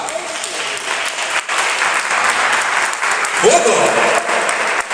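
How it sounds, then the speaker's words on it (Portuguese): Church congregation applauding the word of God during a sermon on Paul and Silas in prison, steady dense clapping throughout while a voice speaks and exclaims over it. "Vamos dar uma salva de palmas para a palavra de Deus?"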